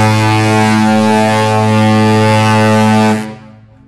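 The deep horn of the Disney Wonder cruise ship, one loud sustained harmonic blast lasting about three seconds before cutting off and fading into a brief echo, heard alone with no talk.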